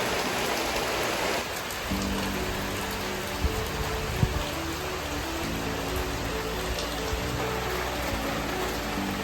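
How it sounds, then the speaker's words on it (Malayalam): Steady rain pours down outdoors in a broad, even hiss, with a few scattered louder drips and a faint low hum in the background, and no one speaking. "നമുക്ക് ഗൈസ് മഴ ഉണ്ട് ഗൈസ്"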